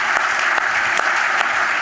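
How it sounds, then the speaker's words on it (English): Audience at a startup day event in Seattle bursts into steady applause, dense and continuous clapping throughout with a few sharper claps standing out. "everybody here should give those two guys and the entire GeekWire staff a big round of applause."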